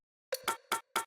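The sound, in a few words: tech house percussion loop from a drum rack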